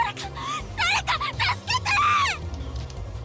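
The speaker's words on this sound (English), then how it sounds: "Hotori's scream helped me regain focus." Hotori, a girl in the video game Remember11, lets out a high, wavering scream in a rapid burst of shrill cries, close and loud over low background music.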